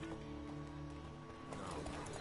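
Horse hooves clip-clop steadily in The Witcher 3 video game, a soft repeated rhythm under a constant bed of game music and ambience.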